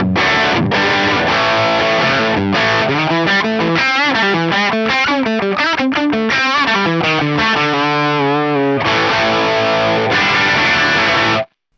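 Les Paul electric guitar played through a NUX MG-30 modelling a Plexi 100 amp with gain and treble raised, a loud distorted riff of chugging chords and bending single-note lines, continuous and alone, ending abruptly.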